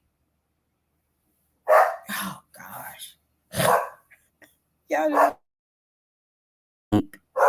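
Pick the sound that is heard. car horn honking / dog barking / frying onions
dog barking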